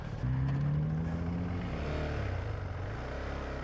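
A KTM 390 Adventure single-cylinder motorcycle engine runs close by with a loud, steady droning hum that rises briefly in pitch at the start, then settles into an even thrum.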